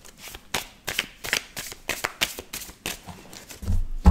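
Deck of cards shuffled by hand close up, a quick run of crisp riffling bursts in steady rhythm, ending with a soft thump as the deck is set down.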